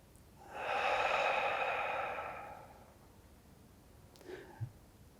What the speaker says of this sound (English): Inhale through your nose. Exhale through your mouth.